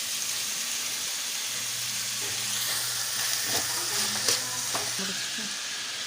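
Onion and tomato sauté in a pan for a dried-fish kootu, giving a steady, moderate sizzle with a few soft stirring scrapes and clicks near the end.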